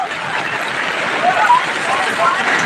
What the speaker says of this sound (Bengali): অনেক বৃষ্টি হচ্ছে বন্ধুরা